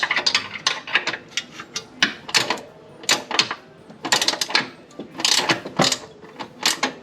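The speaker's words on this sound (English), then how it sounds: "Added a little bit of leverage with my second wrench." Ratcheting wrench loosening a bolt on the broken front control arm of a Lexus IS350, with a second wrench used for leverage, giving sharp, close clicking bursts in an uneven rhythm and no voices.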